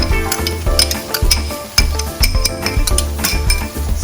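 Mackerel stirred into about three tablespoons of passata in a pan, loud close clatter of a utensil scraping and knocking the pan in an uneven rhythm over a low bubbling sizzle.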